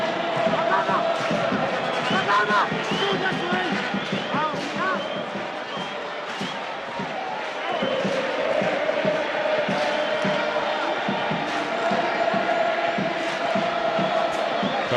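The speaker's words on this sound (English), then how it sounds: "Crowd are really finding their voice now." Stadium crowd at a Premiership football match between Chippa United and Mamelodi Sundowns in East London, a dense continuous roar of cheering and voices that stays loud throughout with brief swells, commentary-free.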